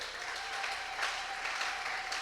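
A church congregation applauding during a worship service, a dense continuous clatter of clapping that fills the space from start to finish with no voices.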